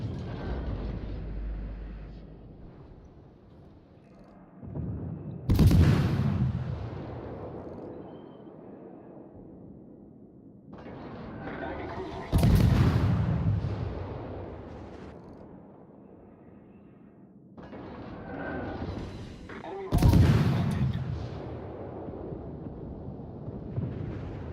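Heavy naval guns booming in the warship battle game World of Warships, three loud deep blasts spaced several seconds apart, each with a rolling tail over low background rumble.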